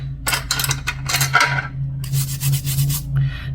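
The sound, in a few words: scrubbing a nail brush clean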